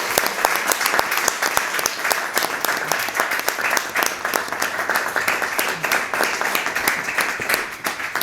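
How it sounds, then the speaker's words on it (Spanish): Sustained audience applause at a tribute event honoring Graça Machel, a dense, steady wash of many hands clapping loudly and continuously throughout with no speech over it. "Un aplauso para"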